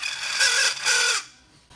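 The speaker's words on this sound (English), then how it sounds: "So before you put the caster in, the first thing you really want to do is get that burr all the way off." A step drill spins inside a FastPipe tube to strip the cut burr, giving two steady, close whirring grinds with a tonal whine, then stopping and falling quiet.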